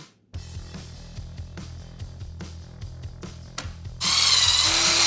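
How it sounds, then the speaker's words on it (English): A power drill bores holes in a stainless steel tube for motorcycle peg sliders, its motor humming with repeated grinding bites and clicks, then rising into a louder, harsher high whine at the end. "Got these holes drilled in it, and the U-bolt will go in."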